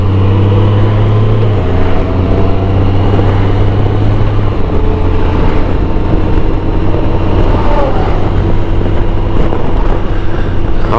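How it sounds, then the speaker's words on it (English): A 2018 Honda GoldWing touring motorcycle with automatic transmission pulls away in a loud, steady engine drone, its pitch stepping up as it gains speed, with no talking over it. "With this automatic transmission, it's going to give us the ability to just grab some juice and"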